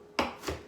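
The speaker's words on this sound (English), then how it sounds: "cut your onions nice and small" A knife cuts an onion on a cutting board, two quick close chops about a third of a second apart, each a short crisp scrape-like slice with nothing else heard.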